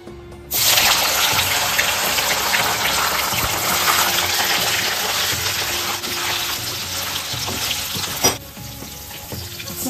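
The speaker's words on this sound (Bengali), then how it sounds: "কড়াইতে সাদা তেল নিয়ে নিয়েছি, পনিরটা ভেজে নেব।" Paneer cubes fry in white oil in a wok, a loud continuous sizzle that bursts in suddenly, holds steady with faint stirring clinks, then drops off near the end.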